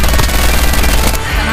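Sustained rapid gunfire from a Call of Duty match, loud and dense throughout with a slight dip near the end, no clear talk over it.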